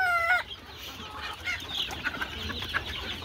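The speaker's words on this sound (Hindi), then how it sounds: "बहुत ही अच्छी नस्ल की मुर्गी रखी हुई है, हेल्दी मुर्गी है" Desi chickens on a poultry farm cluck and call in a busy cluster close by, with a brief crow at the start and a steady low barn background.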